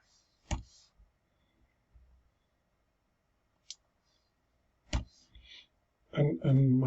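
Several isolated keyboard clicks spaced over a few seconds while someone enters numbers for a burger shop game, with a voice starting to talk at the end.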